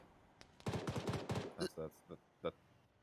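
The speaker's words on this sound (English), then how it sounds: "And then the BTR shooting Stark." A BTR armoured vehicle fires in a milsim video game, sending out a rapid burst of automatic gunfire followed by a few separated single shots, all fairly faint and distant.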